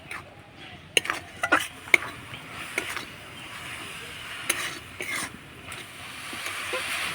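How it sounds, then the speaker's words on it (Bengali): A filling of grated coconut and chopped raisins for pitha is stirred in a pan, with a few sharp spoon taps on the rim and soft scraping strokes over a faint background hiss. "এবার নাড়াচাড়া করে আমি পুরটা তৈরি করে নেব।"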